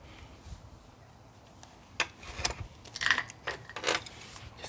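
Metal clicks and ratcheting turns from a wrench loosening the inner bolt on a bicycle's rear wheel axle, several short sharp bursts in a close, quiet setting.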